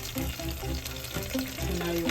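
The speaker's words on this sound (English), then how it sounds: "So now start it frying a little" Quarter-size dollop of garlic paste frying in a pan on a stove, a steady close sizzle with soft crackling and faint stirring scrapes throughout, no talking.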